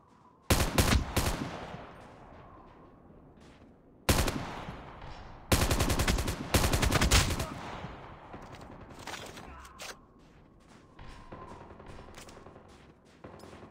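Loud bursts of automatic M4 fire in a Call of Duty Mobile Search and Destroy round come in several rapid strings, followed by quieter scattered shots and background game sounds.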